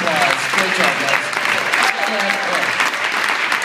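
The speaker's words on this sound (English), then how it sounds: "let's give them a big round of applause" An audience at a Sundance film screening Q&A applauds, a dense, steady clapping from a full room held at one level, with cheering voices mixed in.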